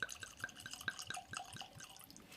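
Found North Batch 10 whisky trickles and splashes into a glass in a quiet room, a soft run of bright drips and gurgles lasting a couple of seconds.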